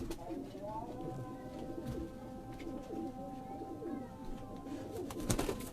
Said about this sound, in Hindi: ये उस्ताद जी 35 वाले कबूतर है?